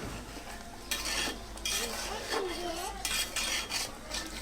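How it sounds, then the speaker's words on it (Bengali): Ilish polao, hilsa fish pilaf, being stirred in a pot with a metal spoon, intermittent scraping and rubbing strokes against the pot over a soft simmering background, close and fairly quiet. "ভালো করে নেড়ে চেড়ে নিব"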